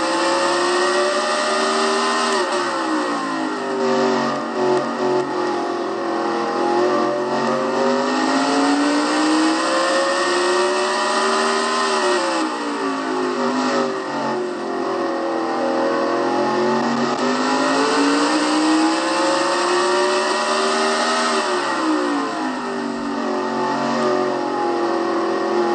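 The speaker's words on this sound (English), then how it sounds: "hearing the motors at Martinsville is amazing that they stay together" Stock race car engines lap the Martinsville short track, screaming near 10,000 RPM in a continuous, loud drone that rises and dips rhythmically as they brake into the turns and accelerate out, with no voices.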